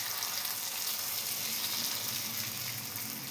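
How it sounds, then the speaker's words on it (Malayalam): Hot chili tempering poured into banana pachadi, a steady broadband sizzle and hiss that holds evenly close by for a few seconds, with no voices. "ഇനി ഇത് പച്ചടിയിലേക്ക് ഒഴിച്ചു കൊടുക്കാം."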